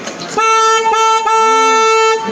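A tour boat's horn sounds on the San Antonio River Walk, giving one loud, steady, tonal honk of about two seconds after a brief rustle of handling noise.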